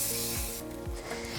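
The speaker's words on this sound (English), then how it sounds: "we're just going to spray them with some non-stick spray" Non-stick cooking spray misted into a brownie cupcake pan, a continuous broad hiss with a few short spurts, heard up close over a faint background hum.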